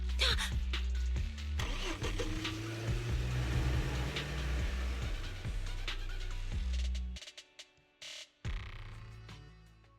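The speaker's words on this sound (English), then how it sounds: "Piper, start the truck." A truck engine in Zenless Zone Zero turns over and runs with a steady low rumble under a music bed, then cuts out abruptly near the end.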